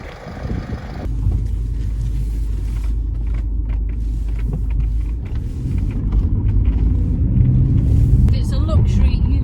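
A 2018 Mercedes-Benz E220d AMG Line Premium Plus on a test drive, with a steady low engine and road rumble inside the cabin that rises slightly toward the end, while a person talks over it.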